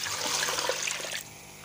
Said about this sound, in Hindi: और इसमें डालेंगे पानी, 1 लीटर पानी डालेंगे इसमें।